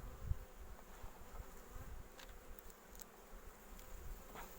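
A steady, low buzzing drone of many honeybees crowded close together in a strong hive colony, with a few faint higher clicks and rustles over the hum.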